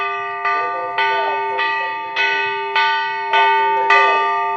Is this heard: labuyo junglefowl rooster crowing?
no